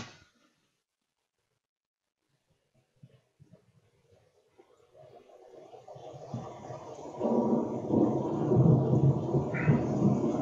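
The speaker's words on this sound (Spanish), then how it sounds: "voy a jalar aquí mi primer track, voy a jalar la lluvia" A rain and thunder sound track plays back in Adobe Audition, starting near silence with a few faint crackles, then a low thunder rumble swells and steady rain grows louder and fuller toward the end.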